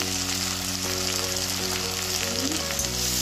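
Fenugreek leaves sautéing in hot oil for a quick methi bhaji, a continuous close, even sizzle with a low steady hum in the background and no talking.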